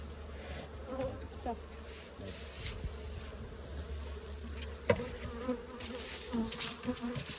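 Honey bees buzz around their hives during a winter inspection of the apiary, a dense, continuous close drone with individual bees passing near.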